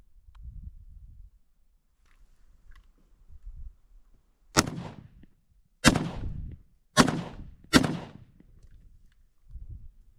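Four sharp, loud single shots from an AK-74 Kalashnikov rifle in a video game, spaced about a second apart, set against quiet low rumbles before and after.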